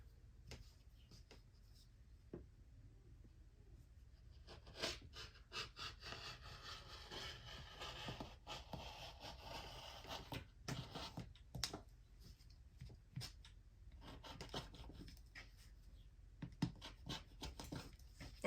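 A blade slicing through the neck of an old cotton T-shirt, a soft scraping, sawing rasp in short repeated strokes, close and fairly quiet, with no talk.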